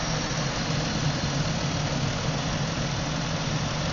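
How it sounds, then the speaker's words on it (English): A car engine running steadily at a fairly constant pitch during a snap-throttle check while its secondary ignition is tested, a continuous moderate hum with no clear rev bursts. "So this is a normal snap throttle."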